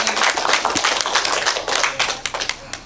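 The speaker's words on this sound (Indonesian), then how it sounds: "tepuk tangan dong untuk saudara Dani" A church congregation claps at a Christian wedding blessing, a close, lively patter of individual hands in quick irregular rhythm with a few sharper slaps standing out, lasting a few seconds without speech.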